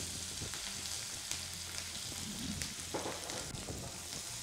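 Onion and green chillies sauté in a pan with a soft, continuous sizzle and crackle at low volume. Faint stirring scrapes come through now and then, and nobody speaks.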